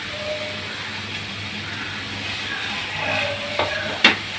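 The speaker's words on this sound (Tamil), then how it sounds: "இப்போது இது வதங்கட்டும் ஒரு ஒரு நிமிஷம் வதங்கட்டும்" Dried red chillies and asafoetida sizzle steadily in a hot pan, a continuous soft frying hiss with a couple of brief stirring scrapes near the end.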